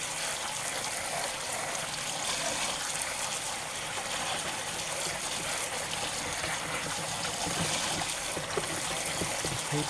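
Running water rinses salt-soaked green tomatoes in a sink, a steady hissing stream with splashing and trickling for the whole stretch, close and even, with no talking.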